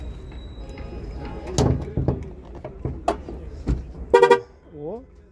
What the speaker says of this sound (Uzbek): eshikni yopganda signal berib turar ekan mashinamiz